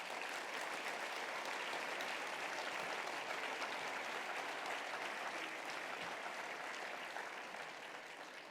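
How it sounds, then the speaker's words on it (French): Sustained audience applause at a formal speech, steady and dense throughout, fading slightly toward the end, with no voices over it. "Et je vous demande de l'applaudir, rien que pour ça."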